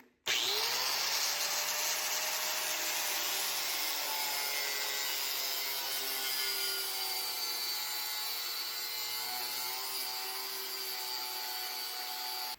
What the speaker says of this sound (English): I'm gonna take the cutoff wheel here, I'm gonna cut it right at this weld here we did